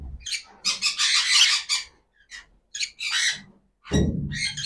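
Pet birds in a breeding box let out harsh squawks and chirps in uneven bursts with short gaps, close and loud, alone without talk.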